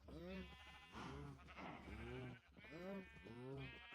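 Sheep in Minecraft bleat repeatedly in a steady series of wavering calls, fairly loud and close, with no talking over them.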